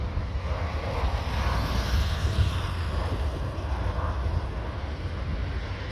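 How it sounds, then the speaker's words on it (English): Transavia Boeing 737-800 taking off at Orly airport: a broad, steady jet roar, loud and sustained for several seconds with some wind buffeting and no talk. "Takeoff already in the air. 737. It's a powerful aircraft, powerful engine."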